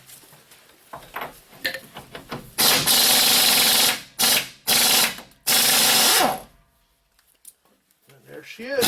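A socket wrench ratchets on the ball joint of a 2002 Chevy 2500HD, with close rapid clicking bursts, several loud sustained ratcheting runs and scraping metal, and quieter handling noises around them.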